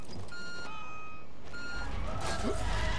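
Reversing beeps from a truck in the Watch Dogs Legion game come as a few steady, moderately loud electronic tones over street and engine noise, with a low rumble rising toward the end.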